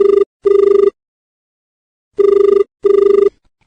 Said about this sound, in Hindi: ये बीच में हमारे किसान श्रोता लाइन पे हैं।